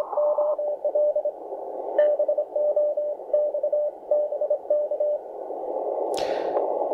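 CW Morse code picked up on a Tecsun PL-330 portable radio: a steady keyed tone beeps in dots and dashes over a soft hiss, ending in a sharp burst of static as the dial moves.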